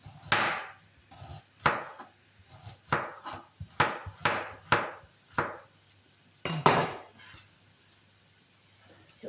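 Repeated knife chops on a cutting board while preparing fried liver with onion and potatoes, about a dozen uneven strikes with short pauses, close and crisp, with faint background noise.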